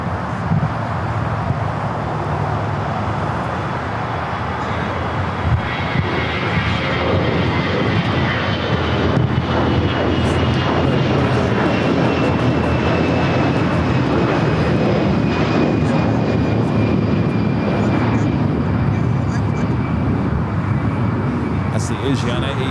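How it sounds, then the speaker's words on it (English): An American Airlines Airbus A321 takes off from LAX with a loud, continuous jet engine roar and a rising whine, heard from nearby over airport background noise while a person talks. "An American flight taken off heading to Phoenix, flight 2032 at A321"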